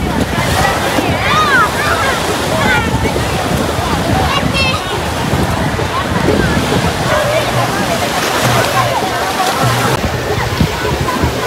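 Sea waves roll and crash continuously on Morwala Beach in Sri Lanka, a loud, steady surf wash with wind buffeting the microphone and faint voices of bathers mixed in.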